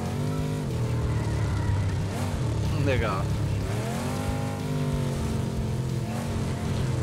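Car engine revving and accelerating in a Nintendo Switch racing game, a steady engine drone with rising pitch sweeps running through the whole stretch, and someone talking over it.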